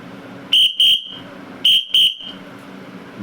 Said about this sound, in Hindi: उसके लिए 4 बार छोटी सीटी, जैसे कि हमने शिक्षक को बुलाने के लिए बजाई थी।